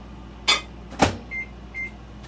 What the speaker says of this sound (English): I'm gonna pop it in the microwave